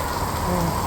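Heavy rain pouring at Shipra Ghat in Ujjain, a steady dense hiss of drops close by, filling the short moment with no voices.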